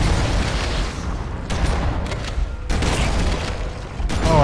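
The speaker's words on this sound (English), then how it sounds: "How about a grenade for you boys?" Booming explosion from a grenade in the video game Halo, set in an ancient security facility, loud and dense with several rumbling bursts and crackling debris over a few seconds.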